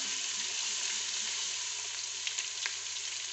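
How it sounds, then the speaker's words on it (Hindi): Chicken with garlic and ginger paste and fried onion sizzles steadily in a pan over a medium flame, a loud, continuous frying hiss with faint stirring scrapes. "इसको फ्राई करेंगे हम 1 से 2 मिनट, मीडियम फ्लेम पर हम चिकन और लहसुन को फ्राई करेंगे"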